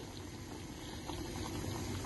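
A soft, steady bubbling of tomatoes in water on a low boil, continuous and fairly quiet, with no voices.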